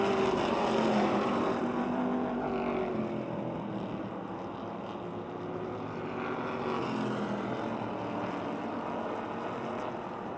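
Race cars in a heat race at a speedway roar past in a dense, continuous engine drone, pitch rising and falling as the field circles the oval, loud and sustained throughout.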